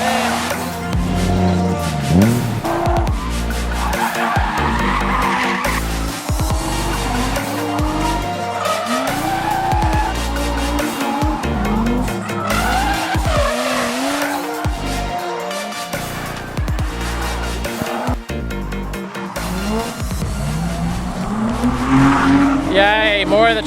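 A Nissan S13 drifts on a track, its engine revving hard with long, loud tire squeals rising and falling over the whole stretch. Voices chatter now and then over the steady roar.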